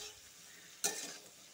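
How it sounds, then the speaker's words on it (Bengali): Pointed gourd and soybean chunks fry in a pan, a quiet low sizzle that swells into a brief louder burst of stirring and hissing near the end. "সয়াবিনের সাথে পটলটা ভালো করে ভেজে নিব।"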